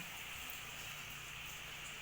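Rain falling on a cool evening makes a soft, constant hiss with no distinct drops and no voices.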